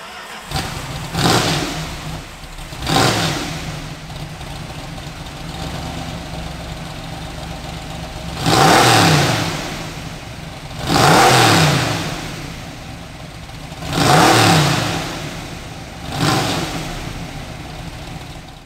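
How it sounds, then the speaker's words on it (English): A 1970 Plymouth AAR Cuda's V8 engine idles with a deep rumble, then revs hard four times in a row, each roar swelling and falling back to a throaty idle. "let's fire it up and let that V8 rumble."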